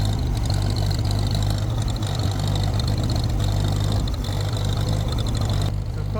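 A Ferguson TED20 tractor engine idling, a loud, steady low rumble with a continuous throbbing beat that runs without a break.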